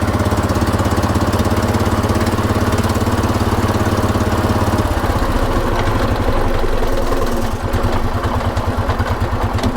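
Engine of a vintage 1980s UTV running loud and close, a high, steady drone that drops partway into a lower, rougher chugging with a clear pulsing rhythm.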